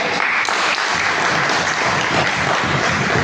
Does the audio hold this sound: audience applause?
yes